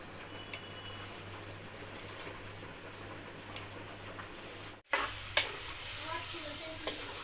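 Chicken kofta mixture being mixed by hand in a bowl, giving soft, wet squelching and stirring sounds up close, with a sharper burst of sticky handling midway and no talking.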